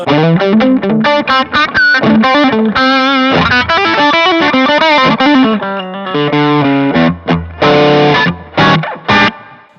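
Electric guitar through a Harley Benton Vintage Overdrive pedal plays a loud, driven lead of quick, choppy phrases and sustained notes, with short gaps between bursts and no talking.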